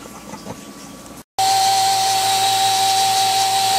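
A milling machine motor runs hard under heavy cutting load while feeding through stock, a loud steady whine with a high tonal hum that kicks in abruptly after a brief dropout and holds constant.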